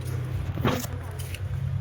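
A car cruises fast at about 220 km/h, its steady low engine and road rumble droning throughout with a brief burst of noise in the middle and a voice faintly in the background.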